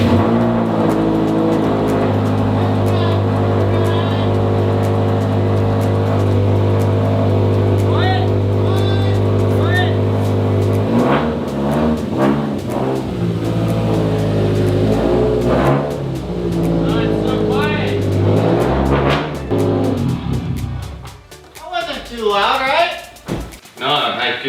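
A Subaru engine cold starts and settles into a loud, steady rumbling idle that runs the whole time, with revving changes later on. People talk over the engine noise.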